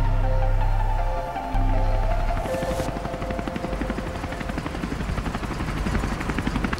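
A helicopter in a war video game throbs loud and close, its low rotor pulse continuing steadily after an engine-like drone drops away early, with no talking.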